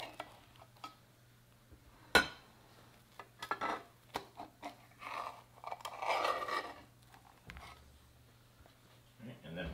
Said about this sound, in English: we're gonna slice this into a pie shape